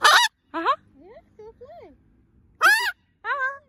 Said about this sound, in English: He talks to the wild parrot.